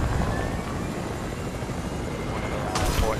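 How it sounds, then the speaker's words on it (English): A helicopter in the Fortnite video game produces a steady, dense rotor drone that fills the whole stretch at an even level. "I'm gonna grab the helicopter before it caught up in the storm."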